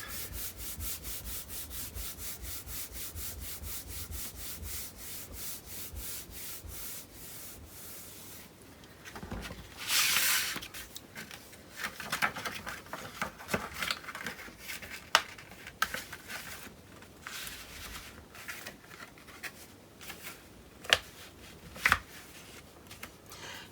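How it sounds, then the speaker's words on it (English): Paper is burnished to close a handmade pocket: soft, close rubbing and scraping strokes, rapid and even at first, then irregular with a few sharper scuffs and taps. "then I will close my pocket, burnish this down"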